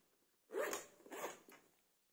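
Pocket zipper on a motorcycle tank bag being pulled open, two quick rasping strokes close up, followed by a fainter short third pull, with no talking.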